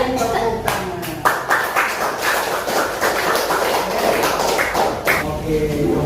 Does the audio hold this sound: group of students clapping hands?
yes